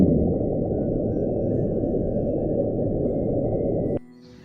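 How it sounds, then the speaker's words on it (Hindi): A hydrophone recording of the ocean sound known as Bloop, attributed to an iceberg scratching. A dense, rumbling low roar runs steadily for about four seconds and then drops away into faint tones. "ये आइसबर्ग स्क्रैचिंग की आवाज़ है।"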